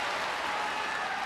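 Arena crowd at a Pride FC Grand Prix 2004 semifinal fight, a loud continuous roar of cheering fans filling the hall, unbroken and close.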